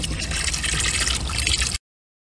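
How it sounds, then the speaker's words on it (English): Perlite filter media mixed into a slushy slurry is poured slowly into a pool skimmer, making a close, steady splashing trickle of water that stops abruptly. "I'm going to go ahead and pour slowly into the skimmer here"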